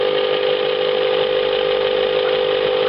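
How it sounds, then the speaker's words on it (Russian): A small electric motor spins with a steady, dense mechanical whir at close range, holding a constant pitch for the full few seconds. "Вращение движка увеличивается"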